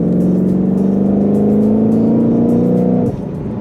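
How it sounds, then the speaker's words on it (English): Ford Mustang Shelby GT500 engine in automatic mode downshifting: a loud, close, steady engine drone that holds its pitch, then drops sharply near the end as the gear changes. No one speaks. "it downshifts really, really good in automatic mode"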